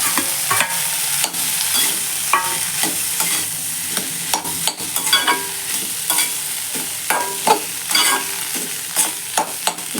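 Potatoes stirred into peas masala in a pan for a panipuri filling: a spoon scrapes and clacks in irregular strokes against the pan over a steady, close sizzle, with no voices.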